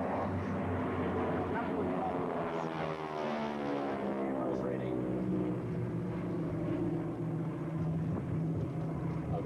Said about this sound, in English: Look at the Corsair.